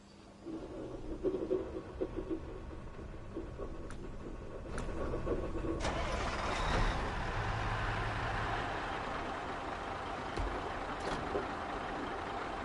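A garbage truck engine rumbles steadily in the off-road driving game SnowRunner, with a low, continuous drone and occasional faint clanks and knocks over the running motor.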